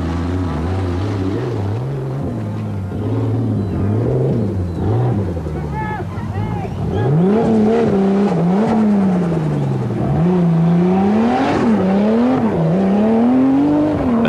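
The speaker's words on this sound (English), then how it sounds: "Driving at a steady pace, the big 4x4 still sounds and looks good." A Toyota Land Cruiser 4x4 rally car runs at a steady pace during the 1987 Venda Sun 500, its engine a continuous loud drone that rises and falls in pitch, with commentary talking over it throughout.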